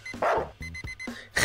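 Dog barks from the Streamer Life Simulator video game, a few short sharp yaps spaced across a second and a half, fairly close and clear with no talk over them.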